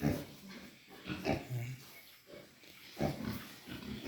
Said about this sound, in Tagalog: may bago tayong native piglets